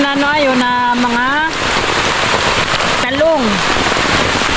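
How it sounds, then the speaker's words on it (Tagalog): Heavy rain pours down on a vegetable plot, a loud, steady hiss of drops striking surfaces close by, with a voice speaking over it at the start and again briefly later. "lakas naman po ng ulan mga kakalpuhag eh"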